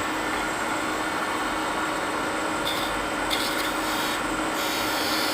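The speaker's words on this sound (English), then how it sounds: "And it's just a scraper." A hand scraper drags steadily across wood at a woodworking club meeting, giving a continuous close rasping scrape with a few brighter strokes near the end and no talk over it.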